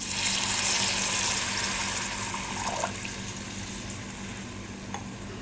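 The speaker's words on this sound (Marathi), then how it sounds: "आता यामध्ये मी पाणी टाकणार आहे" Water poured into hot, sizzling masala in a pan for a spinach vadi curry makes a loud hiss and bubbling that slowly settles, with a few stirring scrapes and clinks near the end.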